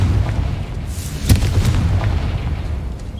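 A Confringo spell explosion in the video game Hogwarts Legacy: a deep, rumbling boom with a sharp crack near the middle, low-heavy and sustained across the clip with no talking.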